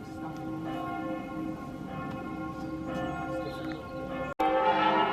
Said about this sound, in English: They are practicing the wedding church bells.